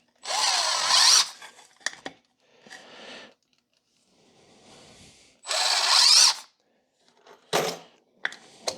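A power drill driving screws into repurposed shop cabinets, with two loud, close whirring bursts about a second long each, separated by quieter rubbing, knocks and small handling clatter, and no talking.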